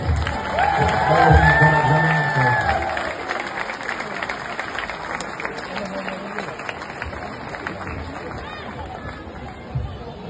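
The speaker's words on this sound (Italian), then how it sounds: "Fate un applauso a Dani." A live concert crowd at a show in Furtei claps for a band member. Scattered applause swells early, then thins out under ongoing chatter and a voice speaking over the hall.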